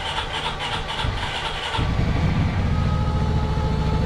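Car engine in a garage with its oil pump running cranks briefly, then catches and settles into a steady, loud, close idle that continues to the end.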